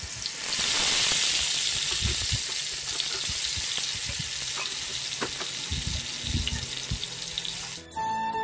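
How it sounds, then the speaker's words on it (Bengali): Marinated chicken pieces fry in hot oil, giving a steady, loud sizzling hiss that fills the whole stretch, with occasional clinks and stirring knocks underneath before it cuts off near the end. "যে চিকেনগুলো আমি ম্যারিনেট করে রেখেছি সেই চিকেনগুলো আমি এখন ভেজে নিব"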